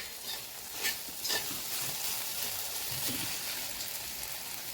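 Sliced okra (bhendi) frying dry in a pan without water, stirred now and then for a Maharashtrian vegetable dish; a steady close sizzle with scraping spoon strokes, no talking.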